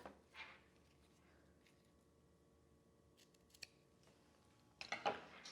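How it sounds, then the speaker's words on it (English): Scissors make a couple of quiet snips as ribbon ends are trimmed at an angle on a pony bead keychain, set against a faint background hum. "Just cut a little bit off on each side at kind of like an angle."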